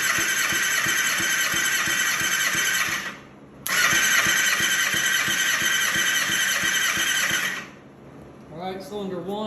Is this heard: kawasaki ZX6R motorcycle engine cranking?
yes